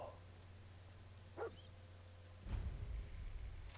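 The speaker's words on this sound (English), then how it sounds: "Hi, dog. Hey, boy. What are you doing out here all by yourself?" A dog in the Fallout 4 video game gives two short barks, a brief yelp and then a fuller bark, over steady low game ambience with a faint tone.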